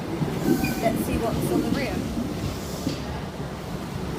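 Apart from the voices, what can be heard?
train at Plymouth station, Great Western Main Line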